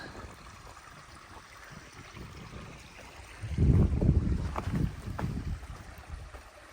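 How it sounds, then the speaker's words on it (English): A small stream flows under a little footbridge along Crawfish Trail, a steady outdoor rush of water that swells louder and closer midway, with light wind and no talking. "Nice little bridge over a stream."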